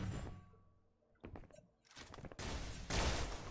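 Gunfire in a Xonotic video game duel on the Graphite map, with sharp synthetic shots and impacts that build into a loud, dense burst of fire toward the end.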